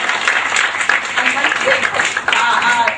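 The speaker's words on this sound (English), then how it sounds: "please give her a big round of applause" Applause from an audience at a special school event, loud, close clapping that runs steadily through the whole few seconds, blended with crowd noise.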